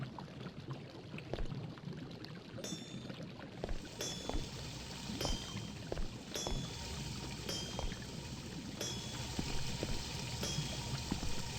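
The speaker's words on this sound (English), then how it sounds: "Process looks kind of cool. Churning the water there, washing the ore." Ore washer machinery in the Evospace factory game churning and sloshing water, a steady watery rush with repeated clanking pulses over the run of the clip, no talk.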